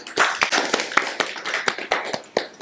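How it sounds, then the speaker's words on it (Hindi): A group of women at a health-education session clap after a correct answer, with a close burst of uneven, fairly loud hand claps and no talk. "इन दीदी के लिए जोरदार तालियां हो जाए"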